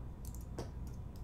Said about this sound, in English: I'm just typing the equation as I have it right there